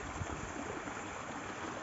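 Water from a mountain stream at Pawankhind flowing steadily down from above, a continuous close rushing wash with no voices.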